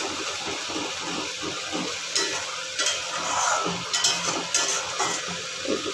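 Tomato masala with potatoes sautéed in a pan, a steady sizzle and hiss of frying overlaid with repeated scraping stirs of the spoon, fairly close and with no talking.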